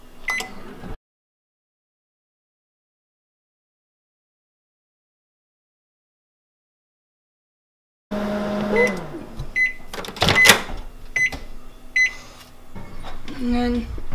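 Microwave oven warming food in a home kitchen, heard after a long silent gap as a steady low hum with beeps and door clatter close by, with speech over it.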